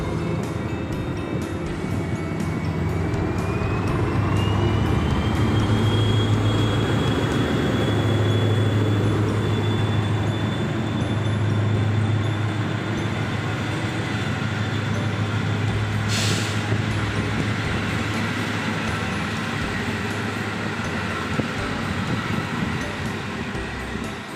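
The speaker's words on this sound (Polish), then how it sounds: "Tutaj odjeżdża stonka ze składem pociągu Intercity Kochanowski." A locomotive pulls the Intercity Kochanowski passenger train out of a Polish station platform, its engine a steady loud rumble with a rising whine and mechanical rail noise throughout.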